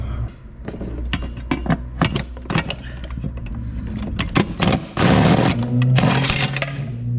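A nut comes off the firewall of an 80 series Land Cruiser donor vehicle being stripped, with a series of metallic ratchet clicks and taps, then a loud burst of whirring power-tool noise near the end, close and without talking.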